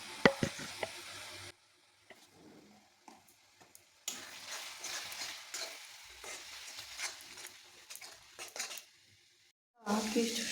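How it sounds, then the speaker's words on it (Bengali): Vegetables with salt, turmeric, cumin, coriander and mixed vegetable spice sizzle and get stirred in a pan for momo filling, loud scraping bursts broken by quieter pauses. "কিছু সময় কষিয়ে নেব।"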